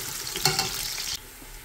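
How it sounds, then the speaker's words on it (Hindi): Onions frying in hot oil in a pot for a vegetable pulao give a steady close sizzle, with a brief stirring clatter about midway before the sizzle drops back quieter. "ऑयल को गर्म कर लिया है और उसमें हम डाल देंगे अनियन और अनियन को हम कर लेंगे ब्राउन"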